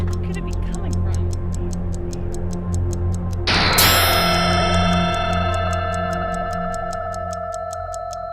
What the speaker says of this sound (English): It sounds like ticking, but where could it be coming from?